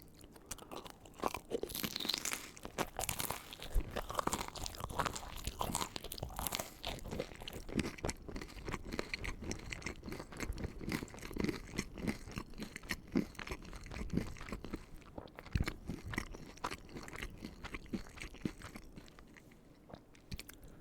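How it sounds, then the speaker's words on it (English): Loud, close crunching and chewing of hard mini pizza bagel bites, bites crackling steadily throughout with no talking. "it's gonna be a bit of a crunch, I believe here"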